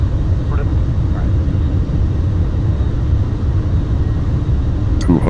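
Airbus A350 engines in the Airline Commander flight game, a loud, steady low roar that holds evenly throughout, with a faint brief blip near the end.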